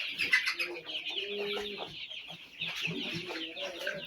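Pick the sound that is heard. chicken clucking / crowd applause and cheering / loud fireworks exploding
chicken clucking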